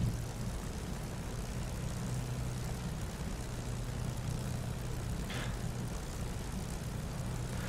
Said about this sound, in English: P-51 is a very easy airplane to handle on the ground. Very easy to taxi.